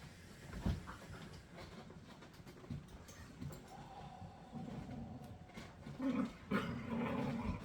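Dogs growl low and rumbling nearby, with occasional whimpers and shifting noises over a muffled background.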